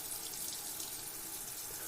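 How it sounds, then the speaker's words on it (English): Shower water runs in a steady, even hiss, a continuous spray without breaks, fairly soft and close. "He turns on the shower."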